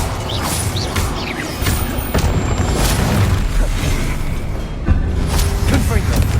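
An Incendio fire spell is cast in Hogwarts Legacy, producing loud booming blasts and crackling bursts over a dense, noisy background of game effects.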